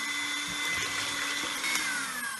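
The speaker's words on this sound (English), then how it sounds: "Now we whisk the egg white to snow." A steady whirring motor whips egg whites to stiff peaks, a continuous faint buzzing drone with slight wavering and no pauses.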